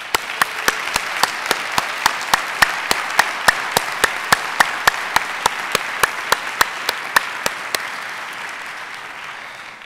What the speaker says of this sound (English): could we stand up and at least applaud you?